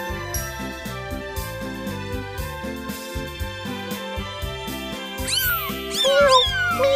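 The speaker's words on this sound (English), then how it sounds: "How does the cat talk?" A cat meows amid a bright, cheerful musical backing in a children's lesson about pets, with a couple of rising-and-falling meows near the end over jingling tones.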